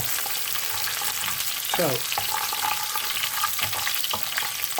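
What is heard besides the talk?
ginger and garlic frying in mustard oil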